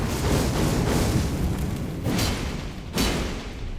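Fiery explosions from a spear attack with fire-buffed weapon in Elden Ring, a loud continuous roaring blast with two sharp bursts toward the end, no voices.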